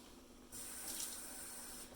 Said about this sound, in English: I add a little bit of water in the can.